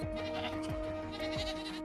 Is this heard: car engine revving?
no